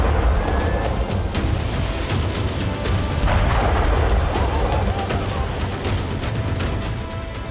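Explosions at a Russian oil depot set on fire, a dense, continuous barrage of loud booms and crackling blasts that overlap without pause, heard as a heavy rumbling roar.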